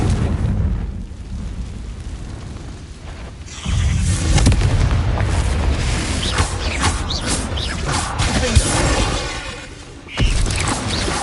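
A Confringo fire spell explodes in Hogwarts Legacy, a loud booming blast that rolls into a sustained roar of crackling and rumbling debris, with sharp bursts scattered through it.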